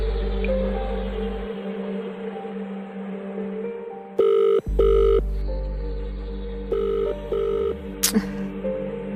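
A telephone's dialing tones and electronic beeps sound over a steady background hum, followed by short ringing bursts that go unanswered.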